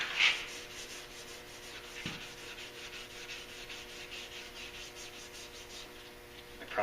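Car rocker panels being wet sanded by hand, a steady, soft rubbing hiss running the whole time, fairly quiet and close, with no voices.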